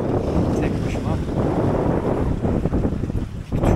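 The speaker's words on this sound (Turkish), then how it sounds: "Gördüğünüz gibi rüzgar da bu şekilde." Wind gusts buffet the microphone aboard a MacGregor sailboat sailing solo at sea at about 3.6 knots, a loud, rough rushing with water noise underneath, steady over a few seconds.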